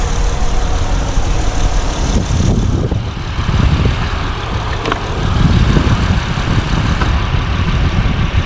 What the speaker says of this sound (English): Okay, it idles up. The fans are now on.